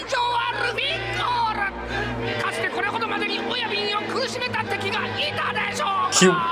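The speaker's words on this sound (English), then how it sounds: "They're cheering for Luffy, not for their captain." An anime crowd in One Piece cheers and yells for Luffy, a loud, dense babble of many voices with music underneath, overlapped by a person talking.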